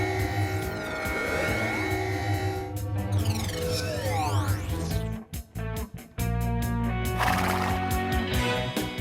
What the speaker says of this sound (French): Pouvoir du cheval!